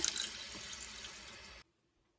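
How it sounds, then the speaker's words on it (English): Tap water pours steadily into a cooking pot to cover chicken, onion skins and vegetables for a broth, a close splashing stream that stops suddenly, followed by silence. "Just enough water to cover it."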